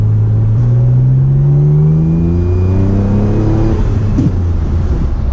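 Mitsubishi 3000GT VR4 accelerating hard through third gear, a loud, close engine note rising steadily for several seconds before easing off, with road and wind noise underneath.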